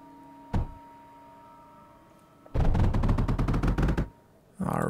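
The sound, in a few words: Salvo turrets firing in the video game Mindustry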